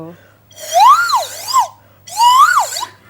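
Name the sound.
homemade water-filled balloon pipe whistle, siren-like pitch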